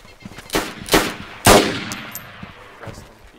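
Gunfire in the survival shooter DayZ: three loud, sharp shots at roughly half-second spacing, the third the strongest, with fainter pops trailing afterward.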